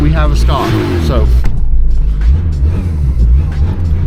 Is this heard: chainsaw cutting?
no